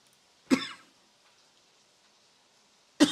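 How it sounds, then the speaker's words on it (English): Two sharp coughs, close and abrupt, spaced a few seconds apart with near silence between them. "Sorry guys, coughing a bit here"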